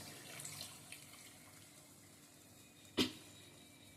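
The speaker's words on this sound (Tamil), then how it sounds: "புளி தண்ணி கரைச்சி வடிகட்டி வச்சுருக்க புளி தண்ணி." Strained tamarind water pours into a fish curry (meen kuzhambu) in a home kitchen, a faint, steady liquid trickle with a couple of sharp clinks of a vessel near the end, and no speech.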